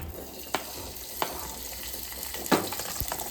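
Chopped green chillies frying in oil for a chutney, a low continuous sizzle broken by a few sharp spatula taps and clinks, close and fairly quiet with no talking.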